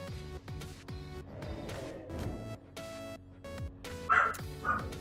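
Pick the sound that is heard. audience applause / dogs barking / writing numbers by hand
dogs barking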